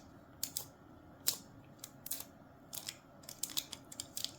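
Foil being rubbed onto a gel-coated fingernail during nail art, heard as quiet, scattered scratchy strokes in short bursts over a faint background.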